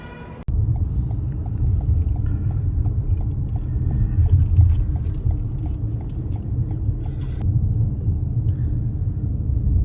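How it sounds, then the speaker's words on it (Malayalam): A car idles close by with a steady low engine rumble on a very cold night outside Toronto, starting abruptly and holding at a constant level for about ten seconds. "കാർ വന്നിട്ടുണ്ട്"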